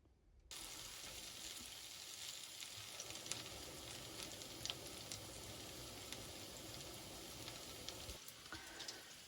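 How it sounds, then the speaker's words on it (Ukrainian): Steady, loud hiss and crackle of grated young potato and zucchini fritters frying in fresh hot oil, continuous throughout with small pops, starting abruptly after a brief moment of quiet. "Даю свіжу порцію олії і далі тертюшки смажу."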